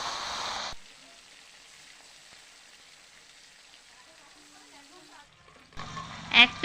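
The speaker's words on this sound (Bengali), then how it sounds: "এখন আমি লোটে মাছের পিসগুলো ভেজে নেব।" Lote (Bombay duck) fish pieces fry in hot oil in a kadai with a close, hissing sizzle at the start, then a long quieter stretch before the sizzling and clatter return at the end.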